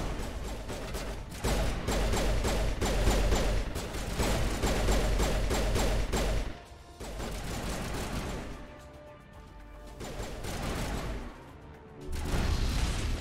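Sustained rapid gunfire from weapons in the video game Mass Effect Legendary Edition during a firefight on Eden Prime, loud dense bursts with brief pauses and shifts in intensity, no talking.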